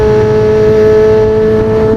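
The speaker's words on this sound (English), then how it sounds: "listen how this exhaust sounds in there" A motorcycle exhaust inside a parking structure holds a loud, steady engine drone with strong tonal harmonics for two seconds, close and with no voices.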